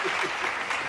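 Several people clap and applaud together, a dense, quick burst of close hand claps filling the short moment, with a voice faintly mixed underneath.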